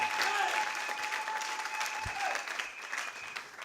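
A church congregation bursts into loud, sustained applause and cheering that fills the room and slowly eases off, with a voice carrying over it.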